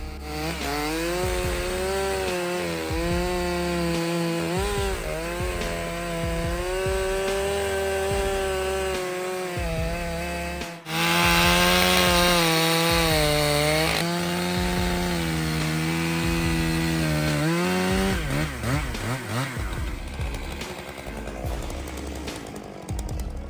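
A STIHL MS661C-M chainsaw with M-tronic engine management cuts through a tree in forestry work, its engine roaring loud and steady, with the pitch rising and falling under load and a harsher surge midway, no voices.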